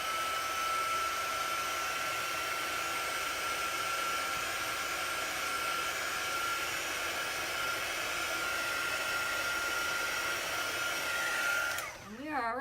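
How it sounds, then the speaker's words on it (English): Heat gun or hair-dryer-style tool blowing steadily to dry chalk paste on a craft sign, a continuous whooshing drone running unbroken for about twelve seconds before cutting off abruptly at the end. "I'm going to give just a very quick shot of heat to dry it."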